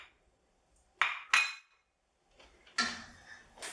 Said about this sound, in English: Give it a stir around.